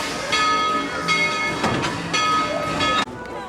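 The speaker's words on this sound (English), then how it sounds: "I'm getting ready to get on the train" A Tweetsie Railroad train with ringing bell tones and clanking rail noise, steady and fairly loud, cutting off abruptly near the end.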